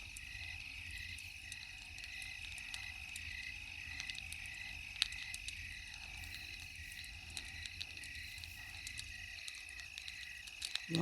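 Frogs croak at night in a steady, faint chorus mixed with insect chirps, a continuous outdoor wash with small scattered calls and no voices.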